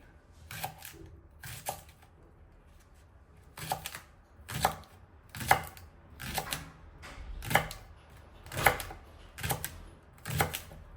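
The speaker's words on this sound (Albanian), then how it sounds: "I coptoj në copsa të vogla dhe direkt i kaloj në tenxhere." A knife chopping leeks into small pieces on a board, about ten distinct bursts of cutting strokes at an irregular, unhurried pace, close and fairly crisp with no talk.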